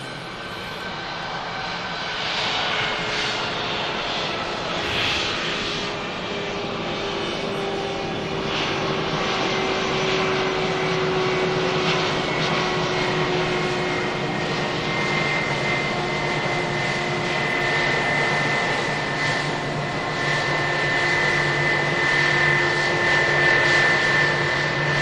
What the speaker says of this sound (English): Lufthansa in from Frankfurt. A321 with the IAE engines.